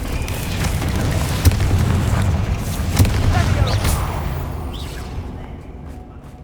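A Confringo spell explosion in the Hogwarts Legacy video game: a dense, loud rumbling blast with crackling bursts that fades out over several seconds, with voices mixed in.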